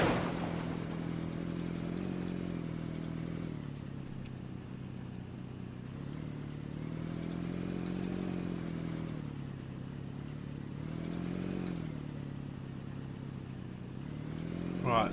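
Steady mid-pitched car engine hum from a survival video game, droning continuously with slight swells in revving throughout, fairly loud and alone.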